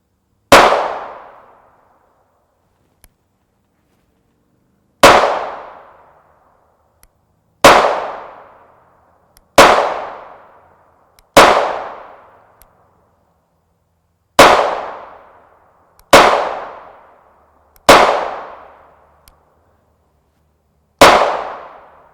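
Pistol shots fired over a chronograph from a 3-inch barrel ring out as eight loud, sharp reports with decaying tails, spaced irregularly a few seconds apart with quiet in between.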